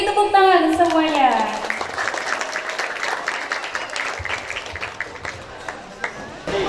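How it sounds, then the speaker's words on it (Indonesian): At a grade 9 farewell ceremony at SMP PGRI 9 Pemalang, a voice over a loudspeaker gives way to a crowd clapping in a hall, with steady, crisp applause continuing under light background noise. "Beri tepuk tangan semuanya."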